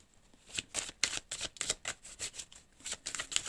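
Tarot cards are shuffled by hand in a quick series of close, crisp riffling flicks and slaps, about a dozen irregular bursts with no talking.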